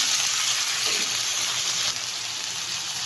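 Chicken mixture frying in a pan while a spoon keeps it moving, a steady close hiss and sizzle running throughout with a slight dip partway, no voices.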